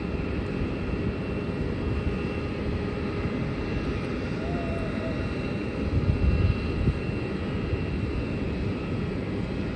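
A Scoot Airlines airliner comes in to land at night, its engines a continuous broad roar heard from a distance outdoors, swelling a little partway through, with no talk.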